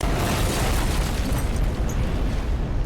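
A gas pump blown apart by a buckshot blast in the 1990 film Night of the Living Dead, heard as a loud, sustained roaring explosion and fiery rumble filling the whole stretch without pause.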